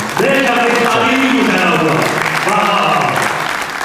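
The audience at a poetry mushaira in Sargodha bursts into loud, continuous applause, while a voice carries on over the clapping through most of the moment.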